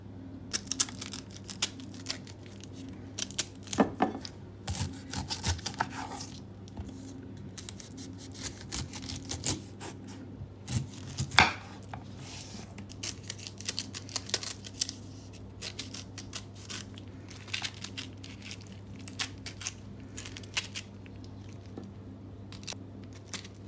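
A knife slicing through a pineapple into long strips then small pieces, steady close crisp cutting clicks and taps over a constant low hum, with no talking.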